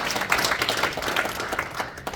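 An audience at a safety association's 2022 general assembly gives a short round of clapping, uneven bursts of hands that stay moderately loud for a couple of seconds.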